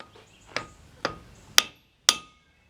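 Four sharp wooden knocks of an oak tappet striking a sawmill pulley, evenly spaced about half a second apart and growing slightly louder, each ringing briefly over a quiet background.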